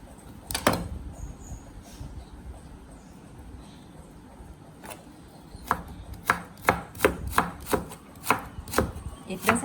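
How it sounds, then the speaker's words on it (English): A knife taps sharply on a cutting board finely slicing carrots, a few isolated chops, then a quick run of evenly spaced slices, close and crisp. "And then the carrots as well. You have to finely slice it."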